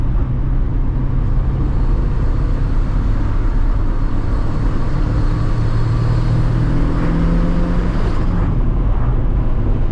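Cabin view of a turbocharged NA Mazda Miata running about 7 psi of boost, with the engine droning loudly and steadily under acceleration amid road and wind noise.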